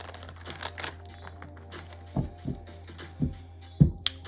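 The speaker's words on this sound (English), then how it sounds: "let's go ahead and shuffle these cards" A deck of playing cards being shuffled, heard as a few sharp riffling bursts and soft card slaps over a steady low hum, close and fairly quiet.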